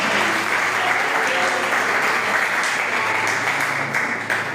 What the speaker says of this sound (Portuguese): Receba isso e aplauda Ele.